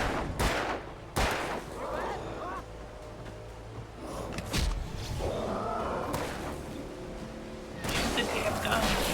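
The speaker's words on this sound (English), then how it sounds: "Shoot the damn gun." Gunfire from the Alan Wake video game crackles in sharp, loud bursts, several shots spaced irregularly amid rumbling game noise and shuffling, with voices in between.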